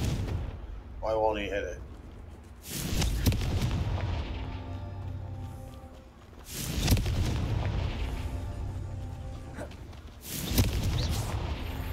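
Repeated fire spell blasts in the game Hogwarts Legacy: three heavy booming explosions spaced a few seconds apart, each with a rumbling tail, while someone talks between them.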